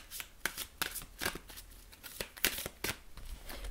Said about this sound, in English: So I'm going to pull a card from the Psychic Tarot deck